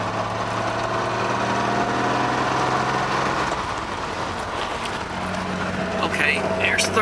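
A vintage Jaguar's engine drones steadily while the car drives on the road, a low continuous hum with a slight shift in tone partway through. A voice speaks over it at times.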